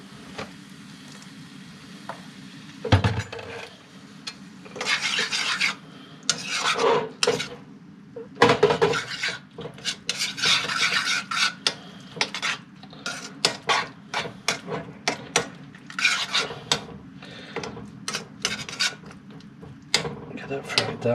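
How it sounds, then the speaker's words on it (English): A curry base with tomato is stirred and fried in a pan, giving irregular scraping and rasping of a utensil against the pan, with faint sizzling underneath and occasional louder knocks. "I'm just frying this down now"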